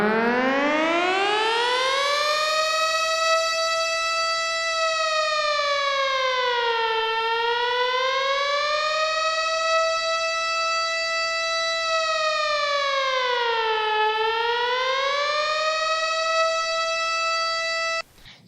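A synthesizer app imitating an air raid siren sounds alone for about eighteen seconds: a loud, steady, harmonically rich wail that rises, then slowly dips and swells again twice in long, smooth glides before cutting off at the end.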